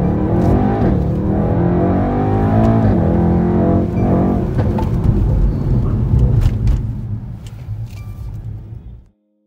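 A car launches hard from launch control and accelerates flat out, its loud engine roaring and climbing through the gears before fading away near the end.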